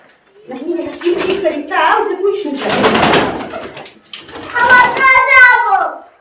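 Pigeons coo in a closed room, their soft throaty calls rising and falling through several seconds while people talk nearby.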